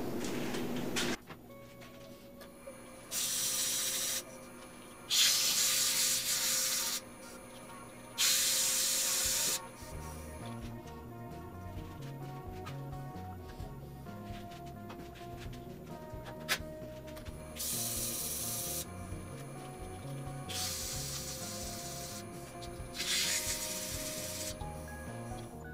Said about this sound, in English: Grab some sandpaper and I'll sand the inside of that edge and the face.